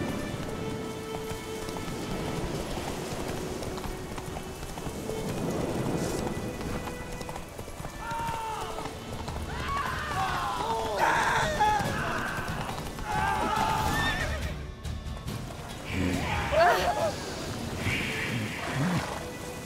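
A horse gallops in The Witcher 3, hooves drumming steadily through a rain-like wash of game ambience, with voices talking over it.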